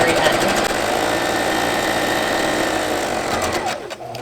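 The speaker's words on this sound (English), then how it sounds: "pivot the work to go down the long side, and then sew until the very" A sewing machine stitching along the edge of a flour sack cotton towel, turning at the corner before running down the long side; one continuous, steady, close hum that slows and stops at the end.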